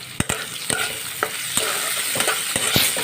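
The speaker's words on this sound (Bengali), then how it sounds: "কাঁচা লঙ্কা পেঁয়াজ কুচিটা ভাজতে দেবো।" Green chilies and chopped onion frying in oil in a wok, a constant sizzle broken by repeated sharp scrapes and taps of a spatula stirring at an uneven rhythm, close and alone.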